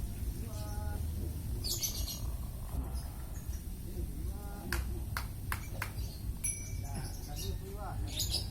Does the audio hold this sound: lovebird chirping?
yes